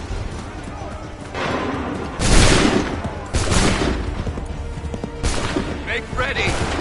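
Musket volleys in the video game Assassin's Creed 3, several loud cracking bursts spread over a few seconds over a constant battle din, with shouted commands around them.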